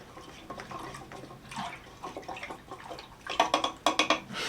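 Stain or finish being stirred in a container for a DIY wooden wall shelf, a wet, sloshing liquid swirl with irregular clinks and splashes, close up, growing louder toward the end, with no talking.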